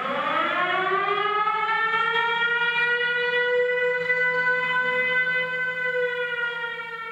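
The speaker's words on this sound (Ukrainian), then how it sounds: "Система оповіщення повітряної тривоги працює бездоганно." A long air raid alert siren wails steadily at full volume in Vinnytsia region, Ukraine, its tone slowly rising and holding, with no voices.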